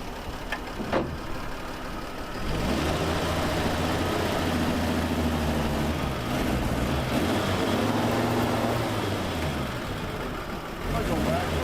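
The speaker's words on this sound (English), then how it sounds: "This car runs too good." A 1954 Chevrolet Bel Air's engine idles close by with a low, steady rumble after a brief knock at the start, holding a constant throb with people talking faintly over it.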